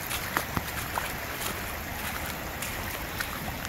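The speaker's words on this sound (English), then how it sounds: "as we get here, it's flowing over" Rainwater spills over an earthen berm from a pond after heavy rain in Central Texas, a continuous broadband rushing wash with occasional small splashes, steady and fairly close, no voices.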